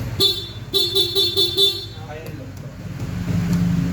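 A Honda ADV 160 scooter horn beeps sharply several times in quick succession, close by, followed by idling engine hum and background noise.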